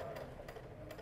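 A sewing machine running a straight stitch along matched fabric edges, a faint, steady mechanical whir with a regular rhythmic pulse.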